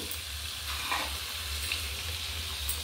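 Ginger paste sautéing in a pan for chicken do pyaza, a steady, close frying sizzle with light stirring and a low rumbling undertone, with no voices.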